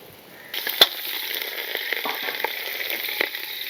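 Mustard seeds, cumin, chopped onion and green chili start frying in oil, with a bright, continuous sizzle coming in sharply, spattering pops, and an occasional stir in the pan.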